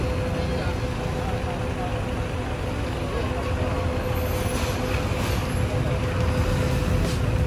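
A CKJ Evolander coach, the first of its body type in Aceh, pulls away from a stop. Its engine makes a loud, close, steady drone with a constant hum mixed into surrounding road noise.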